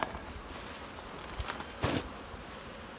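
Honey bees buzzing steadily in an open, populous beehive heavy with honey, a close, dense hum that swells briefly with a few soft bumps and rustles from the frames.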